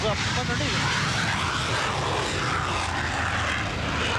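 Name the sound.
military airplane taking off at an air show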